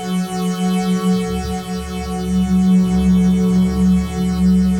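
A Moog One synthesizer run through its ladder filter holds a loud, sustained, buzzing harmonic drone with a low hum-like body, slowly shifting in texture over several seconds.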